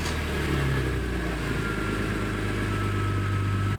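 A car engine runs steadily with a raspy, buzzing exhaust note, holding a fairly even pitch close and loud throughout, with no voices over it.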